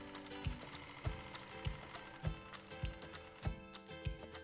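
A sewing machine stitches flying geese quilt blocks with a steady mechanical whir and a regular, evenly spaced thump about every half second. No one speaks.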